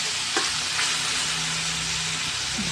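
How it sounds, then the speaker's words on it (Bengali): Chicken pieces sizzle steadily in a pan, browning with no salt added yet, a continuous close frying hiss with a couple of faint stirring clicks and no talk. "দেখো, চিকেনটা বেশ ভাজা ভাজা হয়ে গিয়েছে।"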